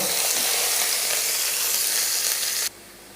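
Whole spices, cardamom, peppercorns, cloves and cinnamon, sizzle loudly in hot oil in a pan while being stirred, a steady close frying hiss that cuts off abruptly near the end.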